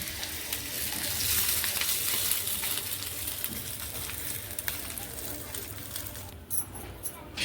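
Hot oil tempering with cumin and green chillies sizzles loudly as it is poured over a fasting-style dhokla, a steady bright crackle that eases off near the end.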